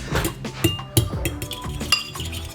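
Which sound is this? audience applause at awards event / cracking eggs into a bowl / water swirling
cracking eggs into a bowl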